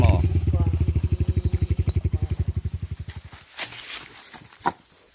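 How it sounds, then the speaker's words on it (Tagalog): An enduro motorcycle on a muddy trail-clearing ride to Mt. Paldingan throbs loudly and steadily up close for about three seconds, then fades out, leaving a few scattered knocks and clatters. "Dito na yung motor mo."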